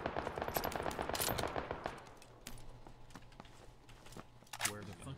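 Suppressed AKM rifle fire in PUBG on the Sanhok map, a dense burst of rapid muffled shots for about two seconds, followed by scattered single shots and game noise with a voice talking over it.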